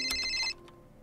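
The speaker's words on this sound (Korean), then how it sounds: "어디서 온거야 전화가?" A telephone in the horror game Miya Alone gives a short burst of electronic ringing that cuts off halfway through, leaving a quiet game ambience before a faint ring resumes.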